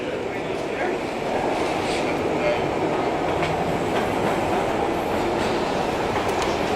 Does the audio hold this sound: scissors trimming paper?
no